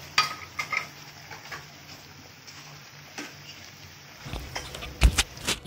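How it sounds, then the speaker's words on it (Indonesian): Bakwan vegetable fritters frying in oil in a pan, a soft continuous sizzle with scattered clinks and scrapes of a utensil against the pan, busier handling toward the end. "Ini lagi digoreng."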